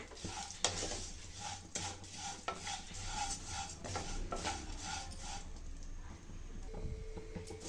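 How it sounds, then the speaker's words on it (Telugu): Vermicelli stirred and roasted in ghee in a pan, with steady scraping and clinking of a utensil against metal over a low continuous sizzle, close and moderately loud throughout. "నెయ్యిలో బాగా రోస్ట్ చేసుకోవాలండి సేమియా మొత్తం కలుపుకుంటూ రోస్ట్ చేసుకోవాలండి"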